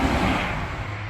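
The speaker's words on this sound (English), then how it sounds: "Sorry about the road noise, guys." Steady broadband road traffic rumble from a street right outside a garage workshop, a continuous low roar with no distinct vehicle passes, heard alone for about a second.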